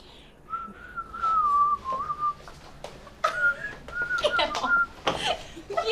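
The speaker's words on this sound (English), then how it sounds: "you just put your lips together and blow" A person whistles a short, wavering tune with the lips, fairly quiet and indoors, in several phrases broken by pauses and faint background noise.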